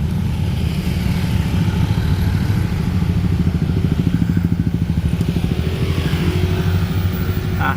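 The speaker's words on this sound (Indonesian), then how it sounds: "Motor udah kayak laler guys." Motorcycles pass closely and continuously in dense, slow uphill traffic on a road, with steady loud engine rumble and droning throughout, no talking.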